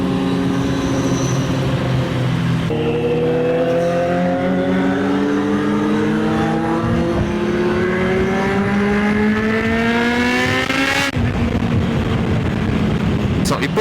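A superbike's engine runs smoothly in close view, its steady tone rising and swelling as it revs, harmonics climbing over several seconds before dropping back, with a loud continuous exhaust note throughout.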